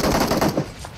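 Burst of automatic gunfire in the PUBG Mobile battle royale game, a loud, dense rattle of rapid shots that fades out within a second.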